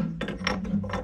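A ratchet tightens a nut on a shovel, giving a few quick, close mechanical clicking strokes in a short burst.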